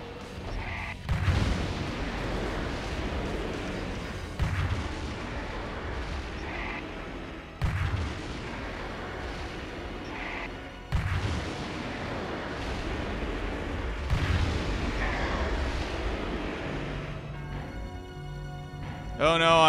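Heavy weapon fire and explosions in the mech action game Metal Wolf Chaos XD: loud booming blasts every few seconds over a continuous rumble of combat.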